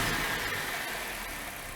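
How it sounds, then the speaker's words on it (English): A car engine idles in a steady, faint, continuous drone with no voices; no distinct start-up burst stands out. "I'll get my assistant to start the car"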